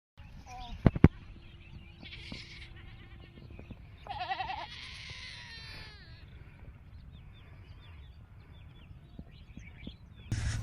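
Goats in an open field give a couple of short, wavering bleats midway, fairly close, over a quiet outdoor background with a few faint clicks and knocks.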